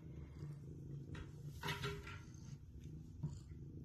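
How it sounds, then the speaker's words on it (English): A cat purrs close up in a low, continuous rumble that pulses gently, faint and alone with a few soft rustles. "He's happy though, he's just purring like crazy."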